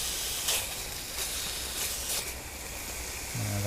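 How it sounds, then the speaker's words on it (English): Steady sizzling hiss from chicken frying in a pan over a small Trangia 27 camp stove in the woods, continuous and fairly close, with a few brief louder spurts and no talking. "The sound of something sizzling."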